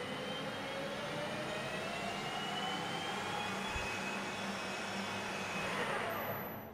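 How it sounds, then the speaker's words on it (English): A metal lathe spins up as the cutting tool plunges into a large workpiece, set for 150 meters per minute and up to 2200 RPM. It gives a loud, continuous roaring whine that climbs steadily in pitch, close by and without speech. "So now the lathe speeds up as I plunge in."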